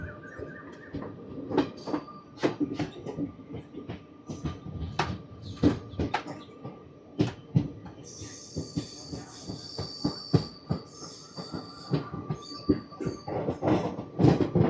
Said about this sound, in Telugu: మన ట్రైన్ అయితే మెల్లిగా చీపురుపల్లి స్టేషన్లోకి అయితే వెళ్ళిపోతుంది.